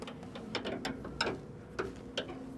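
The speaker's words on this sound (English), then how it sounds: "Now we're going to tighten our back bolt up." A wrench tightening the back bolt on a John Deere S700 combine concave, with irregular metallic ratcheting clicks and taps spread across the clip, close and fairly clear.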